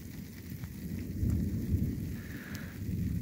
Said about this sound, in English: The thunder is coming from the Abilene area west of me.